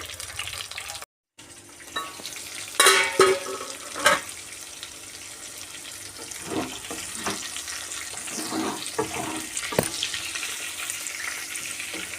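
Stuffed bitter gourds fry in a pan, giving a steady close sizzle that runs throughout, broken by a few louder clatters and stirring scrapes early on and one brief cut to silence near the start, with no talking.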